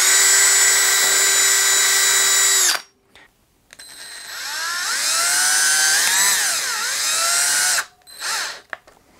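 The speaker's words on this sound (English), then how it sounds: "I'm just going to drill a pilot hole" A small power drill whines at high pitch, stops briefly, then spins up again with the pitch dipping and rising as it bites into oak, drilling a pilot hole in a guitar body, ending in short bursts.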